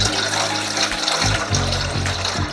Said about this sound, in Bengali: সঙ্গে সঙ্গে পাত্রের মধ্যে দিয়ে দেব জল